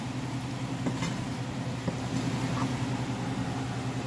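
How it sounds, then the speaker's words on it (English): Coconut rice sizzles steadily in a frying pan while being stirred gently, a constant crackling hiss with faint scraping at moderate volume. "I'm gonna give it a stir. Just gently, okay?"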